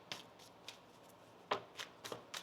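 A deck of tarot cards being shuffled, with soft, quiet riffling bursts: a couple of light flicks first, then a cluster of four crisp, close-up shuffles near the end, with no talking.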